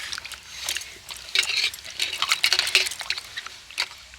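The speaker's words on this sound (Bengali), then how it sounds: "এবার এই জলের মধ্যে আমি আবার ওই চাল কুমড়োর টুকরোগুলো দিয়ে দেব, দিয়ে ভালো করে ধুয়ে নেব।" Pieces of ash gourd are swished by hand in a bowl of water, giving soft, close splashes and trickling drips in irregular bursts that grow busier partway through, with no voices over them.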